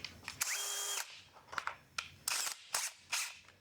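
A power drill boring a pilot hole runs in a string of short, sharp bursts of high whine, with one longer run near the start and several quick stabs after it, close and loud, with no talk.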